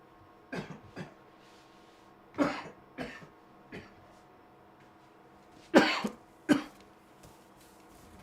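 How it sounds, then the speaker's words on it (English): A person coughs in several short bursts, spaced unevenly, with a quiet pause in between, close to the microphone. "I always cough a few times"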